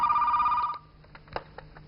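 A telephone rings with a bright, steady electronic trill at close range. It cuts off after a moment and leaves faint room noise with a few soft clicks.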